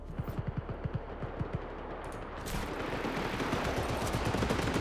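Rapid gunfire in the video game Just Cause 3, with dense bursts of automatic shots that start as sharp separate pops and then thicken into continuous, loud fire.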